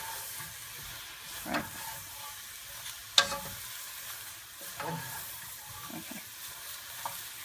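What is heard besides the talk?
stirring chicken curry in a pan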